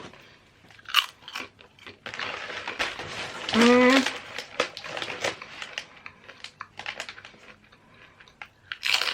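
Salty corn chips are bitten and chewed with loud, close, irregular crunching throughout, with a brief vocal hum partway through and no clear speech.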